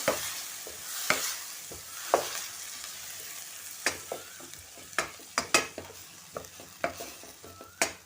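A spoon scrapes and stirs cooked moth beans in a pan in repeated irregular strokes over a soft sizzle, close and fairly quiet.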